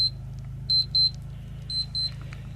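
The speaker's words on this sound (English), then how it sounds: "The timer that I left the blasted batteries in decided to go off" A battery-powered kitchen timer sitting in a trash can gives short, high beeps in pairs, thin and moderately distant, over a steady low hum.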